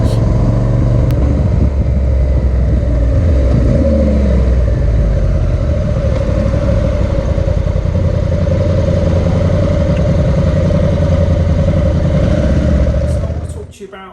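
The Honda NT1100 DCT motorcycle runs with a loud, steady engine note close up, a deep continuous rumble that holds for the whole stretch and cuts off sharply at the end.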